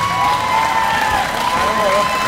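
A crowd in an arena cheers and applauds a fighter's ring introduction at a fight event in Owensboro, a loud, sustained wash of shouting and clapping with whistles rising above the roar.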